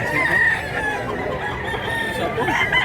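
A rooster crows and chickens cluck close by at a chicken sale in Mantalungon, Cebu, with a busy outdoor background around them.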